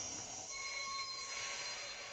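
A LEGO Disney toy train plays its braking sound effect, a shrill metallic squeal of wheels on rails that sustains evenly at moderate volume.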